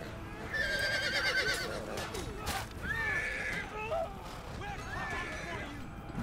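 Horses whinny repeatedly amid the din of a cavalry battle in the strategy game Total War: Thrones of Britannia, with hoofbeats and clatter underneath and someone commentating.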